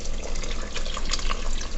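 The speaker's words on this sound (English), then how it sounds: "you're going to want to add some chicken broth to it" Chicken broth pours steadily from a container into a cooking pot for chicken and dumplings, a continuous close liquid splashing and gurgling with no talking.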